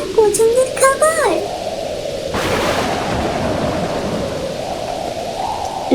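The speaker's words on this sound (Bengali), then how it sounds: "রাত নামলো বাইরে, তুমুল ঝড় আর বৃষ্টি।" A cartoon thunderstorm with heavy rain: a voice speaks briefly, then a rumbling burst of thunder breaks out over continuous loud rainfall that carries on to the end.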